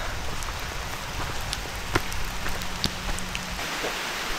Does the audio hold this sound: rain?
yes